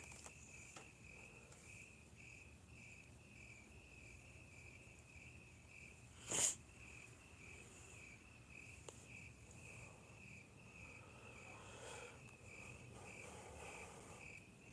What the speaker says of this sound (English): Can't you hear the literal crickets in the background?